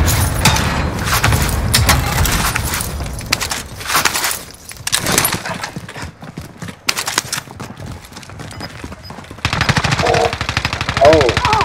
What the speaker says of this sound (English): That was a machine gun, man!